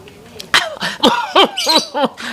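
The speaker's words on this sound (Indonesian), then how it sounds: "Malah batuk kecegek aja" A run of harsh, rasping coughs comes close and loud, several in quick succession with strained, throaty bursts.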